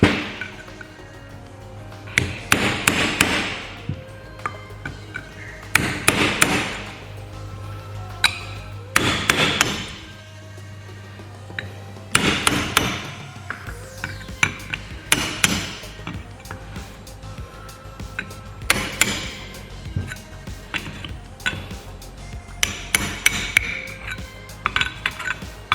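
A hammer strikes a cold chisel, working around a part to split it apart during a locker install: loud, sharp metallic blows land in irregular clusters with short pauses between, close by and with no talking.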